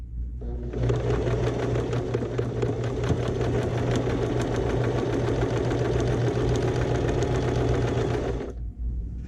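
A sewing machine stitches patchwork fabric in one steady, loud run of fast needle strokes lasting about eight seconds, starting and stopping abruptly, with no talking.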